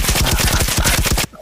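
Rapid automatic gunfire from Firewall Zero Hour, a loud, close burst of evenly spaced shots lasting just over a second before cutting off abruptly.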